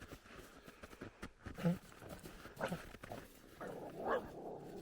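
A dog barks and whimpers in short bursts outdoors beside a bay where ice is forming, the calls fairly close with steady wind-like background noise between them.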